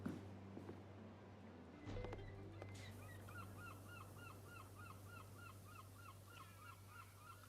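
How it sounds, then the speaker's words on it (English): Seagulls call in PowerWash Simulator, a steady run of repeated squawking cries over a constant low hum of game ambience, faint and unbroken, with no voices. "Seagulls always sound so desperate."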